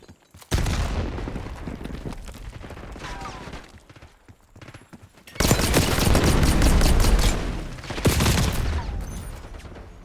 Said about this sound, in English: Frag thrown.